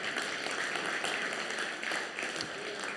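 A church congregation claps together, a brief, dense burst of applause at moderate distance, steady for a few seconds without a clear break.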